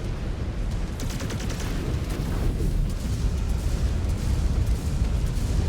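A rumbling explosion in the mech combat game MechWarrior 5: Clans, set in heavy city fighting, a dense roaring blast that keeps booming and crackling for several seconds with no voices over it.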